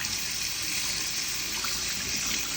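Drained canned chickpeas rinsed under running water, a steady close gush of tap water pouring continuously without break.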